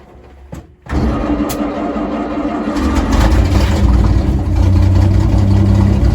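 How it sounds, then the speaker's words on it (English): A 1952 Studebaker M35 2.5-ton military truck engine cranking and catching, fed from its fuel tank, then settling into a loud, steady, rough idle close by. "First time firing this thing, assuming it fires, off the tank instead of the bottle."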